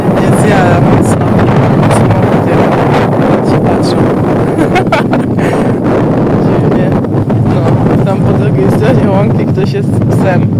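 Strong wind buffets a microphone outdoors on a sunny, breezy day, a loud continuous rumbling roar that persists throughout with no clear pauses.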